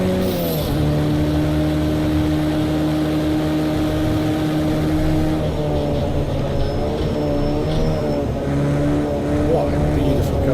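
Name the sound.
race car engine driving in a racing video game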